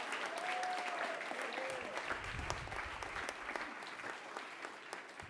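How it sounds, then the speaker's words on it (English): Applause from a school assembly audience for an advanced jazz band, a continuous wash of many hands clapping that stays even for several seconds, heard fairly quietly. "think another round of applause for the Advanced Jazz Band would be appropriate."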